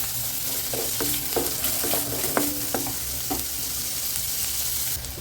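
Big onions sautéing with salt in a pan for a banana-stem kootu sizzle steadily while a spatula scrapes and taps in a quick cluster of strokes, then the frying hiss carries on alone.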